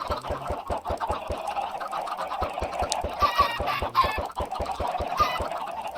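Chickens hatching from an egg in Minecraft, with rapid clucking and honking fowl calls over a steady rhythmic series of clicks, fairly loud and close, with no voices.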